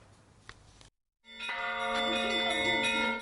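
Church bells rung by hand by visiting Russian bell ringers during a bell-music master class at the Sukhumi cathedral: a brief soft strike, a pause, then a loud sustained ringing chord of several bells swelling and holding, close and resonant.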